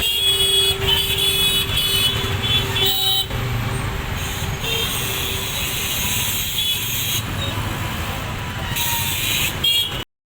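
A ride in an auto rickshaw through a crowded street, with a continuous rumbling engine and road noise, repeated horn toots from surrounding traffic and shifting bursts of passing vehicles.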